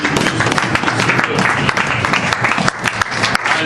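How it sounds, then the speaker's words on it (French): A church congregation applauding, a dense, loud, continuous burst of clapping from many hands that fills the space. "Acclame pour la parole de Jésus"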